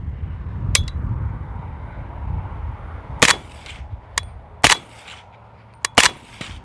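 Several sharp, loud cracks from a PSA 300 Blackout rifle fired at a 100-yard target ring out at irregular intervals, each followed by a short echo over a low windy rumble.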